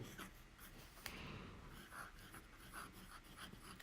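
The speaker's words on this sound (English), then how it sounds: "today is, I'm just going to write some random words" A fountain pen writes words in a notebook, its quiet, close scratching strokes running steadily with small pauses between words.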